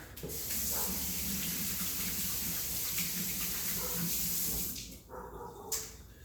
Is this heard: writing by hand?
no